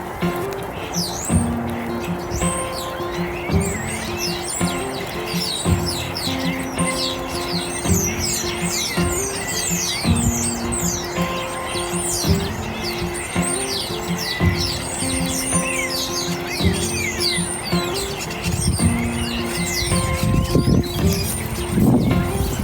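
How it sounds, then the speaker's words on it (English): Many birds chirp and trill continuously in dense overlapping song, with steady background hum and a lower cooing call now and then. "just stand under this tree and let you listen to the birds"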